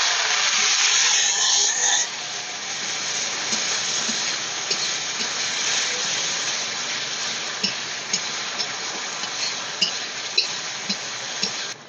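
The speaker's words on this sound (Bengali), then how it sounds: "সেটা ফোড়নের মধ্যে মশলাটাকে কষিয়ে নেব" Ginger, onion and green chili paste with turmeric and salt frying hard in a hot tempering, a steady loud hiss and sizzle throughout with small crackles popping near the end.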